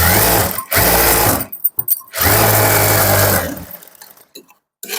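A sewing machine stitches a blouse lining in two loud, close bursts of steady running, separated by a short pause with a few small clicks, then winds down and stops.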